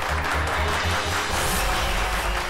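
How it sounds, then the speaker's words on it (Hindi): A steady wash of applause fills the room during a Hindi family scene, with low rhythmic thumps underneath and no talking. "तालियां।"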